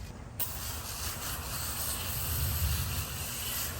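A Bissell Crosswave Pet Pro wet-dry vacuum running on hard floor, a constant loud whooshing hiss with a low motor rumble throughout, close up with no speech.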